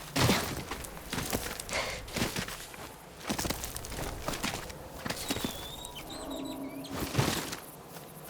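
A golden bird flaps its wings in the video game Ghost of Yōtei, giving soft repeated fluttering bursts amid footsteps and game ambience, followed by brief chirping calls.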